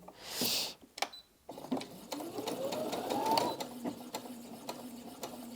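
A Brother Disney Innov-is M380D sewing and embroidery machine stitching fabric, its motor whirring with a rapid needle rhythm for several seconds after a few handling clicks and a brief rustle.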